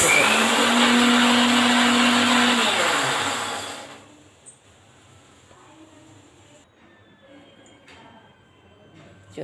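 A mixer grinder grinds rava with a loud, steady whirring motor roar for about four seconds, then winds down and stops, leaving a quiet room with faint handling noises.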